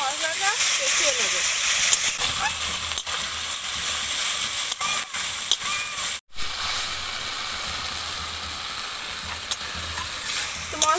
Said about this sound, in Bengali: ভালো করে আমি মশলাটা কষিয়ে নেব।